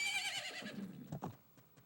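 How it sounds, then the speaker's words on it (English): Epona the horse in The Legend of Zelda: Majora's Mask gives a short high descending whinny, followed by a few soft hoof clops, faint and brief. "Yes, Tattle, that is the horse that you stole from me."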